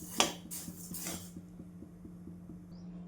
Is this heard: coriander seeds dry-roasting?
yes